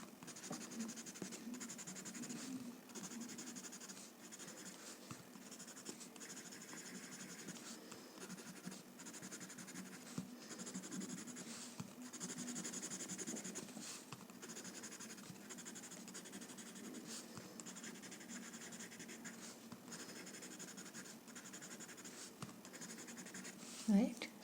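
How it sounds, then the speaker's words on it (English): Pencil shading highlights onto a drawing, soft papery scratching strokes repeated in short bursts, quiet and close, with a voice talking over much of it. "let us pick up our pencil and add some highlight"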